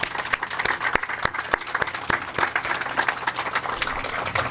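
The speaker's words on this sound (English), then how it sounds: "Let's give them a hand." An audience at a homeless shelter groundbreaking ceremony applauding volunteers, a dense burst of clapping from a modest crowd with individual sharp claps standing out, fairly close and steady throughout.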